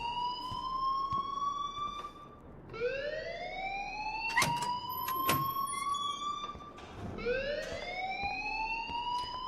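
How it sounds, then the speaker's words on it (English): An alarm blaring in Life is Strange, a loud rising electronic wail that sweeps upward and repeats several times in long cycles, with sharp clicks and bangs scattered between the sweeps. "please turn off that alarm since that's your job"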